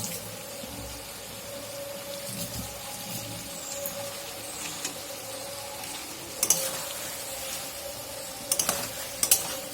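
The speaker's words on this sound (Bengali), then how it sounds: "একটু হালকা আঁচে ওগুলোকে নাড়িয়ে নিচ্ছে" Shukto vegetables, green banana and fried drumstick stems, stirred in a pan over a low flame, giving a gentle continuous sizzle with occasional sharp scraping clicks from the spatula near the end.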